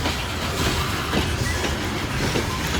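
A loaded freight train rolls past near Kenova with a loud, continuous rumble and faint clacking of wheels over the rails.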